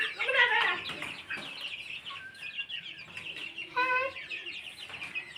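Chickens on a small family farm cluck and squawk close by in short, overlapping bursts during winter, with a few quieter calls in between.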